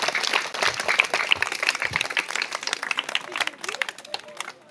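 Applause from a gathering at an event, dense clapping filling the whole stretch with steady energy while voices talk and call out over it.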